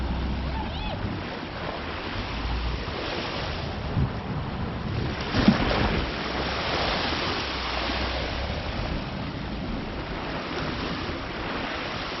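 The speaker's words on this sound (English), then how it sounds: "since the tide's in, we'll have a look at it splashing on the rocks" Steady surf at high tide washes and splashes against rocks on the shore at Hornsea, with gusty wind buffeting the microphone throughout and a couple of sharper splashes.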